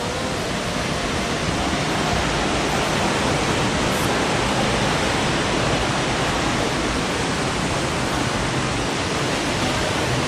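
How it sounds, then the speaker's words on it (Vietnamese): A stream flows about two metres below, a loud, steady rush of water with constant broadband hiss and no breaks. "Từ độ cao 2 mét nhìn xuống phía dưới dòng suối"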